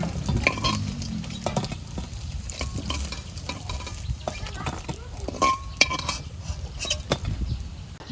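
Fish fries in a pan in a simple village kitchen, a continuous crackling sizzle broken by scraping stirs and light clinks of a metal utensil against the pan, heard up close.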